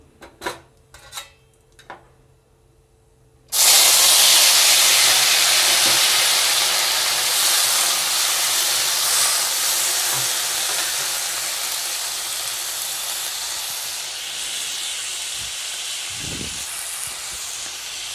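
Vegetables tipped into a hot pan for a simple low-oil breakfast, setting off a sudden loud hiss of steam and sizzling that stays strong and slowly eases, after a few light clinks of utensils.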